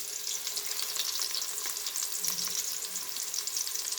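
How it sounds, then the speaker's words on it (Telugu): Chopped onion, green chillies, coriander and mint frying in ghee in a pan, a steady close sizzle with faint stirring scrapes throughout and no voices. "నెయ్యి వేసుకొని ఉల్లిగడ్డ వేసుకోవాలి. ఒక ఉల్లిగడ్డ తరిగి వేసుకోవాలి."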